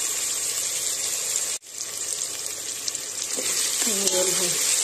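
Onion and tomato sautéing in a pan make a steady, close sizzling hiss that drops out briefly, then resumes with faint clinks.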